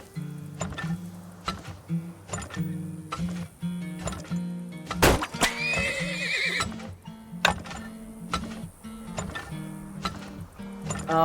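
A video game horse whinnies loudly in the middle, amid repeated sharp clopping hoof sounds and a steady low hum throughout.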